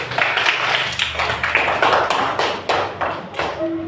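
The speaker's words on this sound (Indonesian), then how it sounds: "Tepuk tangan untuk kelompok 1" A classroom of pupils gives a group a round of applause, a few seconds of close, uneven clapping with sharp individual claps and a faint tone near the end.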